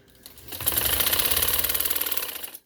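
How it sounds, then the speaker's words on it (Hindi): A sewing machine runs a fast, continuous burst of stitching along a golden fabric neckline, its rapid rhythmic chatter close and loud, winding up and stopping after about two seconds. "अब मैं इसको सिलाई लगाने लगी हूँ और सिलाई हम इधर से लगाएंगे, नीट लगेगी।"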